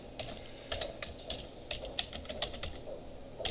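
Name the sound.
typing on computer keyboard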